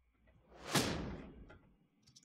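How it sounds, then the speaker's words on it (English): A transitional reverse impact sound effect, alone and fairly quiet, swells quickly to a sharp whooshing peak, then tails off into a brief low rumble. "a reverse impact."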